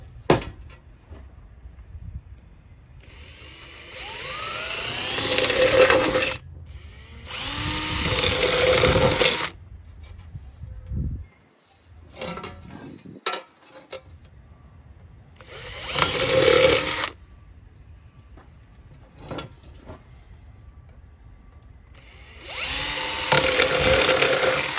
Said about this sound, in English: Now we need to bore some clearance holes so my tin snips can get in there.